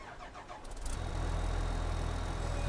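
In Farming Simulator 19, a truck engine catches and settles into a steady, loud idle rumble, with no voices over it.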